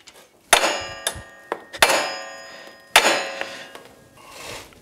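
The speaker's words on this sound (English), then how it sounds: "I can swing the hammer to hit the nut" A hammer striking a socket on a castle nut of a Yamaha YXZ1000R driveshaft, four loud ringing metallic blows with softer taps between, each clang decaying with a bright metal ring.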